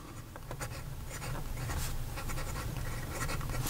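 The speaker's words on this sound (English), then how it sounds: "So here we go with the writing sample for the Diplomat Aero." A steel-nibbed Diplomat Aero fountain pen scratching steadily across paper, close and soft, with quick strokes and short lifts in an even rhythm.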